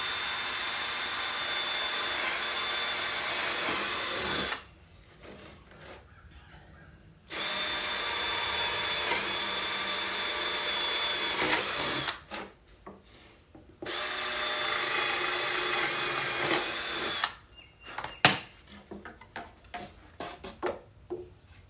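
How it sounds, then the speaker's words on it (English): An electric power drill bores three holes through a wooden Halloween cut-out to make starting points for a jigsaw blade, running in three loud, steady bursts separated by short pauses, with no talking. "drilled out 3 holes to put my jigsaw in"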